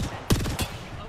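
Gunshots in a video game, two sharp loud blasts about a third of a second apart, each trailing into a ringing echo, with a voice faintly present underneath.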